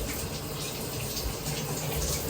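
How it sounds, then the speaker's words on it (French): Water from a shower runs in a steady, even hiss throughout, moderately quiet and unbroken. "Pendant cette douche, je ne vais pas laisser l'eau couler pour rien."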